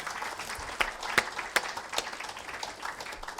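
Audience at a company colleagues awards ceremony in Nuneaton clapping, a thin scattering of hands with a few sharper claps standing out, thinning and slowing toward the end.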